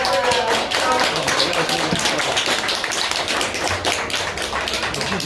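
A crowd applauding at a Warsaw championship event for supermarket peppers, dense continuous clapping that stays loud and steady throughout without a break.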